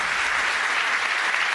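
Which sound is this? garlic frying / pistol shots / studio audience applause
studio audience applause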